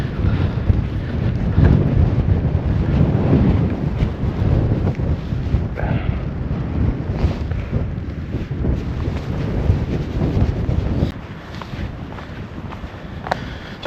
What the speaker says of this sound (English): the wind's straight in his face